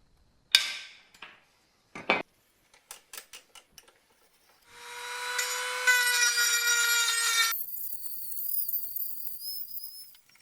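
A few sharp knocks, then a power tool grinding loudly through a metal seat bracket for a BMW E30 325i, shifting to a high, sustained whine as the cut continues.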